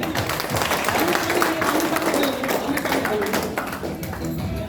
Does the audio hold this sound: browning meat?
no